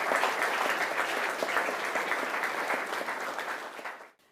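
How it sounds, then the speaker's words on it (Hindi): A school audience at a panel discussion on higher education gives a dense, loud, steady round of applause to welcome a panelist, sustained evenly before dropping off sharply at the end. "तो आइए इनका भी जोरदार तालियों से स्वागत कीजिए, अभिनंदन कीजिए"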